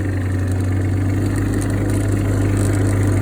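A Cub Lo Boy 154 tractor engine running in second gear, a steady, loud, close mid-pitched drone with a faint rhythmic chug, holding even throughout with no talking.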